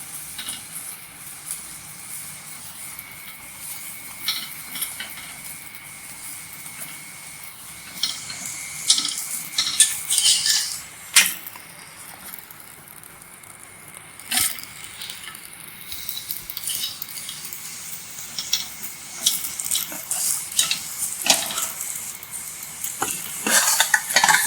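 Wheat bholi cooking on a hot pan, with steady soft sizzling, scraping and clinking as it is flipped and pressed several times over a long stretch, no talking.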